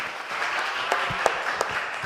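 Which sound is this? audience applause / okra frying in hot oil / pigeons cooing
audience applause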